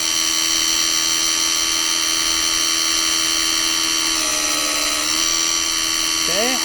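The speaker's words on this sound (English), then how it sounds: "all that noise is that wheel making contact with that blade" An NP4 skiver sharpener's grinding wheel presses against a blade, giving a loud steady whine and grinding hiss that runs throughout, shifting in pitch near the end.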